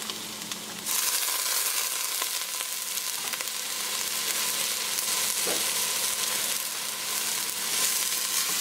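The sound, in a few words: stir frying zucchini and leeks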